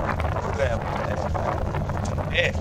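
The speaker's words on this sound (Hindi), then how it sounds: "हवा चल रही है, मुझे लग नहीं रहा इसके माइक में कुछ आवाज़ आ रही होगी" Wind blows into a microphone outdoors after rain on a cool cloudy day, a loud continuous low rumble and buffeting that fills the whole stretch without a break.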